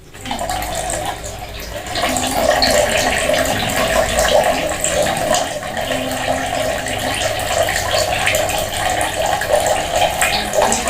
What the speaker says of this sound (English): now observe the speed of water coming out of the hole when I open this